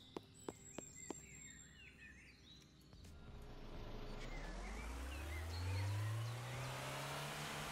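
A car engine in the Trader Life Simulator 2 video game hums low and steadily climbs in pitch as the vehicle speeds up, while game birdsong chirps overhead and a few sharp clicks sound early on.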